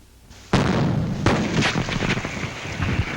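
Gunpowder and a gasoline-air mixture ignite inside engine cylinders in a 1940 Chevrolet demonstration, giving a loud sudden blast followed by a second burst and continuous rough, crackling roar; old film soundtrack quality.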